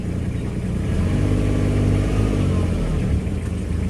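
A vehicle engine revs up and holds a steady mid-pitched drone as it is put into gear, loud and close with no talking.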